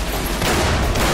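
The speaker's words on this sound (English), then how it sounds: "Let's see if the Tommy gun, the stray gun, will do this." Sustained automatic fire from a Tommy gun in Fallout: New Vegas, a dense, loud, continuous burst of rapid shots with no talking over it.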